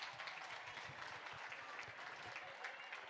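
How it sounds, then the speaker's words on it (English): A gala fundraising audience applauding the evening's host in steady, continuous clapping, fairly faint and distant, with no break throughout. "Give him some round of applause."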